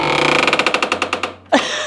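Old hinge on a vintage container creaking open in a long run of rapid, rhythmic squeaks, followed by a sharper single creak as the lid settles, close and fairly loud.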